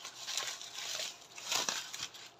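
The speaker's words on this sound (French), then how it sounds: "Ça, je vais le garder, le papier bulle." Close, crinkly rustling of bubble wrap being handled, in uneven bursts of crackle over about two seconds, with no talking.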